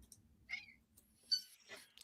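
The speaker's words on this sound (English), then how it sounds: "I hear kitties." A few faint, high, thin meows from small kittens, scattered and brief over a quiet background with a low hum.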